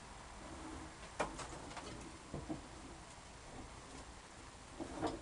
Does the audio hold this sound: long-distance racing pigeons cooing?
yes